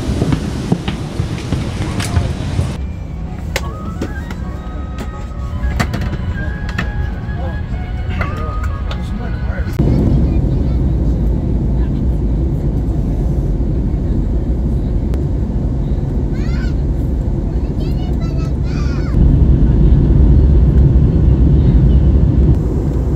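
Airliner cabin noise during landing, a steady loud low rumble that swells at about ten seconds and again near the end, with people talking over it early on.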